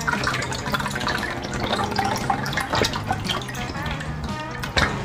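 Coconut water poured into a blender or stand mixer jar while making coconut bread rolls, a steady trickling and dripping liquid sound alone and close, with a faint bump near the end.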